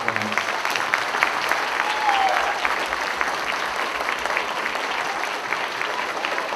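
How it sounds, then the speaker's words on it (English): Elementary school Veterans Day celebration audience applauding hosts and performers, a steady broad clapping crowd heard from a moderate distance, sustained at an even level with slight room hum beneath. "Can I have a round of applause for our hosts and for all of our performers?"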